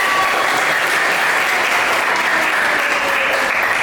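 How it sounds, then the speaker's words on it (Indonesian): A classroom audience claps together in loud, dense, continuous applause that holds steady for a few seconds without pause. "tepuk tangan dong"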